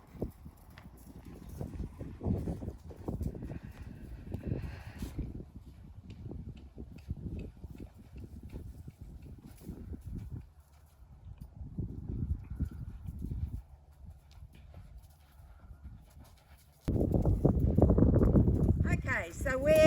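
A young horse walks under a rider, its hooves clip-clopping in an uneven rhythm at moderate distance, with quiet gaps between strides and a louder stretch near the end.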